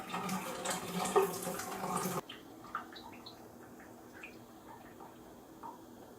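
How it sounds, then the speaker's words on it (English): Water drains out of a houseplant pot as a loud, rushing pour for about two seconds, then stops and leaves a quiet run of scattered drips. "So I'll just drain this one out now."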